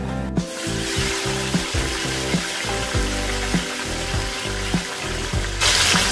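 Three sliced tomatoes sizzle and fry over low heat in a pan for chicken dum biryani. A steady, close hiss runs throughout, broken by repeated soft thumps and scrapes of stirring.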